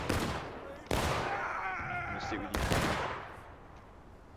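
Pistol shots crack out in a Civil War video game battle, two sharp loud reports a couple of seconds apart, each with a rolling tail over distant crackling gunfire.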